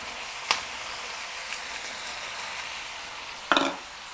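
Crushed garlic sizzles faintly in a pan as a soft, even hiss, with a sharp clack of a utensil early on and a louder scrape and sputter near the end.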